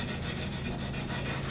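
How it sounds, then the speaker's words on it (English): Green Scotch scrub pad scouring a metal cookware pan with no cleanser, a steady, continuous close-up rubbing and scraping that holds at an even level throughout, with no talking. "So the Scotch green pads work wonderfully. See, it's taking it right off."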